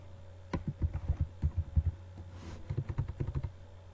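Fingers type on a computer keyboard in quick, uneven bursts of soft, close clicks, broken by a short pause midway, with a faint steady hum underneath.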